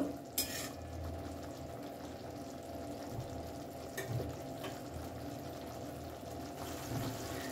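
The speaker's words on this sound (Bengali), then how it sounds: "প্রায় 30-40 সেকেন্ড একটুখানি ঝোলটাকে ফুটিয়ে নিয়েছি।" Doi pabda fish curry gravy simmering gently in a pan over a low gas flame, a soft steady bubbling with a few faint clicks and taps, fairly quiet throughout.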